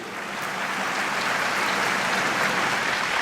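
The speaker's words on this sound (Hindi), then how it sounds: "यार ताली कमजोर हो रही है आपकी थोड़ी।" Steady, dense applause from a large audience at a Hindi comedy poetry show, a continuous even roar of clapping with no talk over it.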